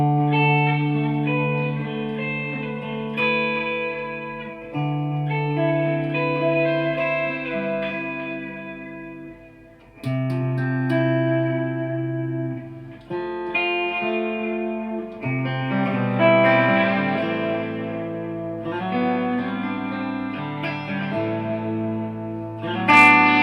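An electric guitar plays chords and melodic phrases through a Strymon Volante magnetic echo delay pedal, with repeating echoes, wobble and reverb trailing each note, loud and close, with no talking.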